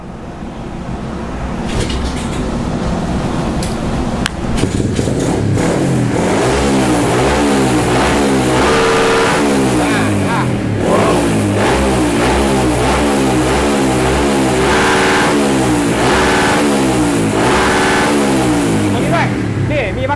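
A carbureted motorcycle engine fitted with an aftermarket CDI box revs hard and repeatedly, bouncing against a 9,000 rpm limiter with a stuttering, chopped roar; a voice talks briefly underneath.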